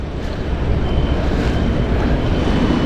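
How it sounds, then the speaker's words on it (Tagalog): Strong wind buffeting the microphone on a fishing boat at sea, a loud low rumbling roar with a faint engine-like hum underneath. "Sinasalubong tayo ng hangin."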